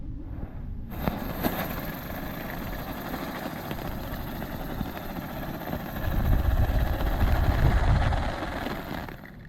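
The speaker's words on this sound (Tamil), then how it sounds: "அடுத்து நம்ம பார்க்க போகிறது ஐயனோட லோட்டஸ் வீல்" Ayyan Lotus Wheel firecracker spinning on the ground, a steady whirring hiss that holds for several seconds and swells louder toward the end before cutting off, with no voices.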